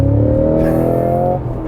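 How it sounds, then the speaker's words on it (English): A 2022 Cadillac CT5-V Blackwing engine revs up sharply during a heel-toe downshift with a strong harmonic whine, then drops off as the revs fall, close and loud. "rev matching off, heel toe downshift"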